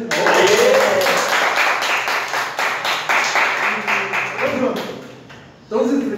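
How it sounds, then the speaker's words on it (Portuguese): An audience claps for teachers during a college interview, a dense round of clapping that swells and then fades, with voices heard near the end. "fazer uma salva de palmas para os professores"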